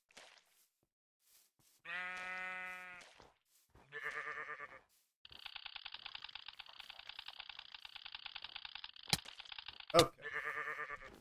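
Sheep bleat several times in the Minecraft Blightfall modpack, short wavering cries separated by pauses, with clicking game sounds and a sharp ping in between.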